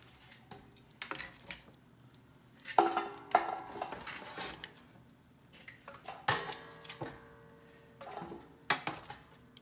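Oven-roasted bones drop one after another into a metal stock pot, giving irregular clattering knocks and scrapes at close range over a low background hum.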